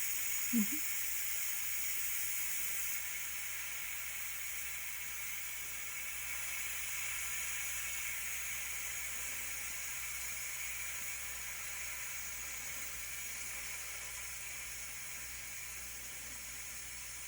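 Steam hisses steadily from the vent of a Ninja pressure cooker, a faint, even, unbroken rush that holds for the whole stretch with no voices.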